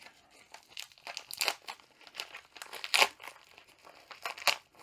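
A pink padded envelope package is opened close up with bursts of crinkling and tearing, irregular rustles rising and falling for several seconds with no talk.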